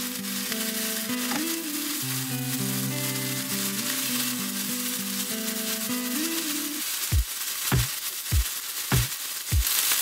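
Chicken pieces for honey garlic chicken fry in a pan with a steady broadband sizzle, while soft tonal music plays under it for most of the stretch and a few sharp clicks sound near the end.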